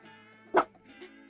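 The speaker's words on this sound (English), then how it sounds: "why are you barking?" A dog gives one short, sharp bark partway through, standing out over a steady, tonal background hum.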